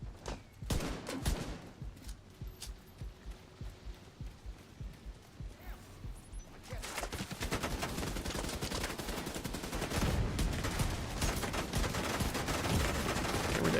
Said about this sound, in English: There's so many turrets now.